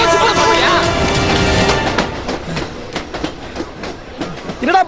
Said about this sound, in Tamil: ட்ரெயின் போகுதுடா.